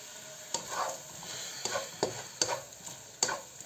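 Prawns frying in hot oil for noodles, stirred with a spoon in the pan: steady sizzle with repeated scraping stir strokes roughly every half second, close and moderately loud, no talking.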